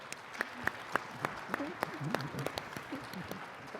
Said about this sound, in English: Let's give a big round of applause for our panel.